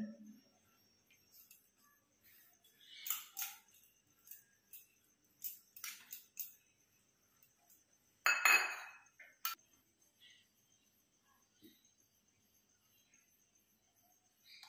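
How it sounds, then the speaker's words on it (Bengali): Eggs cracked against the rim of a bowl in a quiet kitchen: a few sharp, faint taps and clinks come in small clusters, with long silent gaps between them. "ডিমগুলো ফাটিয়ে নিচ্ছি"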